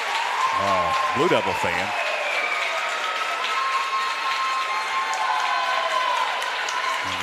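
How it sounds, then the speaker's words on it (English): A fan at a Mountain Six Conference volleyball tournament match between Franklin and Brevard claps loudly and demonstratively, sharp hand claps standing out over a steady crowd murmur while people talk nearby. "somebody gets up and does the really demonstrative clapping loudly"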